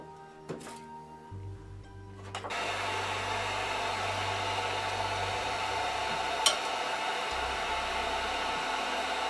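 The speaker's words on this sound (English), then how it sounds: "So what I'm going to do is use my heat gun and heat this up to make it a little bit easier." A heat gun warms a 3D printer's print surface on a Creality CR-10 to loosen old glue. After a few soft knocks, it switches on at about two seconds into a steady, loud, breathy roar of blowing air that holds to the end.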